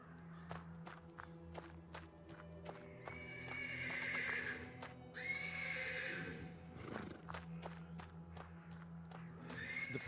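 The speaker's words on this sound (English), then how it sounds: "The persistent neighing of a horse can be heard from the stables." In the video game Black Book, a horse neighs and whinnies insistently from the stables, two long whinnies standing out over clip-clopping hooves and sharp footstep-like knocks, fairly close.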